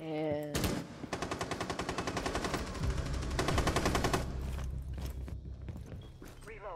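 Sustained automatic gunfire from Rainbow Six Siege, rapid bursts of close, loud shots running nearly continuously with brief gaps, under occasional talk.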